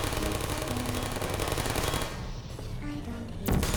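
Turret machine-gun fire in the video game Portal rattles in a dense continuous burst, breaks off briefly, then returns with a sharp, loud spray near the end.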